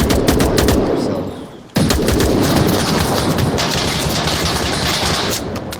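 Rapid automatic gunfire from the VR military shooter Onward, loud and close, a dense stream of shots that briefly stops near the two-second mark before resuming steadily to the end.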